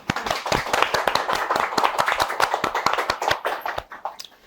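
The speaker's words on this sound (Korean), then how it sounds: "작가님한테 일단은 한번 격려의 박수 한 번 더 부탁을 드리고요" Audience applause for an author at a bookstore talk event: dense, steady hand clapping from a seated crowd, fairly close and sustained, thinning out and fading toward the end.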